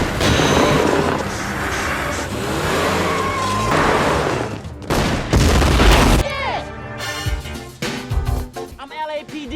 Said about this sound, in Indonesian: digagalkan oleh Carter dengan menembaki bagasi mobilnya yang berisi bom tersebut